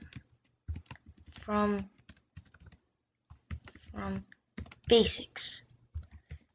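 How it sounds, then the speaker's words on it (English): Clicks of a computer keyboard as a username is typed while setting up a Scratch account, scattered light taps between stretches of talk nearby. "Then you type in a username."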